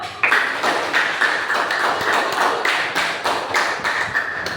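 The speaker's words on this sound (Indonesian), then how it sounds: "Oke, tepuk tangan." An audience applauds together at a school-style talk on AI ethics, a dense, steady patter of many hands clapping close by for several seconds, with no voices over it.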